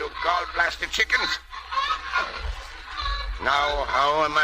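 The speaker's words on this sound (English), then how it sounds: "Quiet, you gall-blasted chickens." Chickens cluck and squawk in a radio drama while someone shouts over them, the fowl noises mixed with his voice and brief scuffling.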